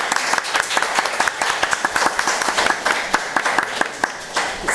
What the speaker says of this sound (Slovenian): Ja, zaslužijo si aplavz.